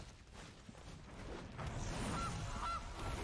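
Goose honks sound as the Goose card is played in the MTG Arena digital card game, two short honking calls rising over a steady mix of game music and effects.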